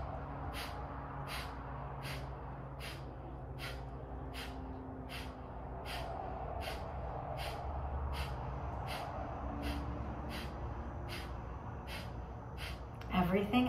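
Kapalabhati breathwork: quick, forceful exhalations pushed out through the nose in an even, steady rhythm, about twenty sharp puffs heard close and fairly quiet over a soft background.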